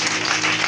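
A church congregation bursts into applause, a dense, steady wash of clapping filling the whole short moment.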